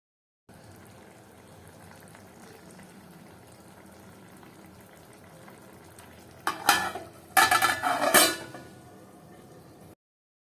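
A curry of broad beans and sweet potato simmers quietly in a pot on a low flame, then a spoon scrapes and stirs it in a few loud, wet bursts before the pot settles back to a soft bubbling.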